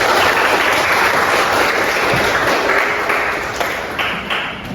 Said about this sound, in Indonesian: Bagus sekali, tepuk tangan untuk ini